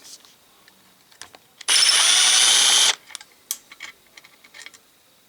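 A power drill drives a screw into aluminum trim on an abandoned 1966 Chevy Biscayne with a big-block engine, making one loud burst of just over a second, with light tool clicks and handling taps before and after.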